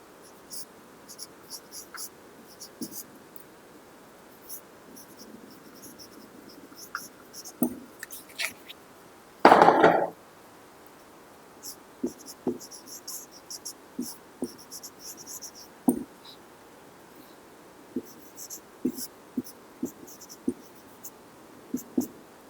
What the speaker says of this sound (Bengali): আমি লিখে দিই অঙ্কটা একটু